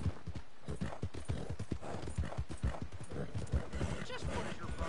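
Horse hooves in Red Dead Redemption 2 clip-clop in a quick, steady rhythm close by, with a brief whinny, while a voice speaks over the footsteps.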